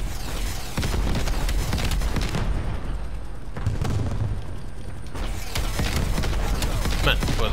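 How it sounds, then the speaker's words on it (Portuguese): Rapid bursts of gunfire and booming blasts from an Apache simulator game, dense and loud, with short pauses, under excited talking. "quem é que deu estes tiros?"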